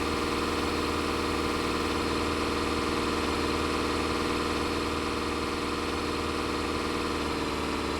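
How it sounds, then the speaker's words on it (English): A tractor engine idles steadily in Farming Simulator 25, giving a constant, even drone with a low throbbing hum that holds at one level throughout, with no talking. "This is not the quickest tractor in the world."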